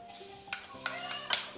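Half a spoon of fenugreek seeds sizzling in hot oil, a soft, steady fry broken by a few sharp clinks and scrapes of stirring, with a faint voice in the background.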